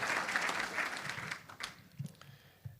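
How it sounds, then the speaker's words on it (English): Audience applause at a Catawba College announcement, fairly quiet and distant, swelling briefly and then thinning out into scattered claps and murmurs. "That deserves a round of applause for sure."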